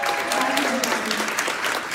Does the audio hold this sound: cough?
no